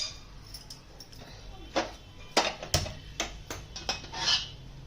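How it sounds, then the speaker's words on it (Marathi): A pan of oil is set down on a gas stove to heat, making a series of sharp metallic clanks and scrapes of cookware, close and moderately loud, spaced irregularly over a quiet kitchen background. "गॅसवरती तेल ठेवले तापायला"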